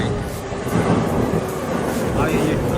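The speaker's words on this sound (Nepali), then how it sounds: "ट्रेन आयो है," A train rumbles into a Tokyo station, a broad, loud rolling roar with rail noise that stays steady for a few seconds, with a voice briefly heard over it.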